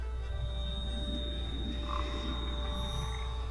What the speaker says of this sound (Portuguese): Eu ouvi sapos e eu não quero sapos agora